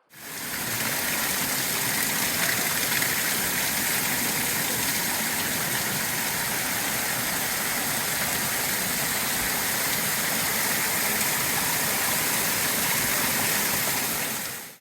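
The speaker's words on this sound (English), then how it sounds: "It also had these famous animal spouts that fed the Gandaki River into the baths." Water gushes from animal-shaped spouts at a temple bath fed by the Gandaki River in Nepal, a steady, dense rushing flow that continues unchanged and close by with no talk.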